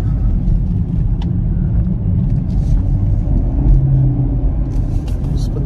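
A 2023 Chevrolet Camaro SS V8 engine droning steadily from inside the car during a night drive with the windows down, a loud continuous low rumble that holds throughout.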